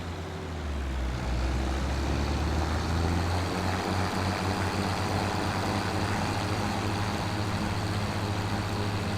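An MB tractor engine from Farming Simulator 25 rumbles steadily while driving, a low continuous drone that swells at the start and then holds at an even, moderate level throughout, with no voices.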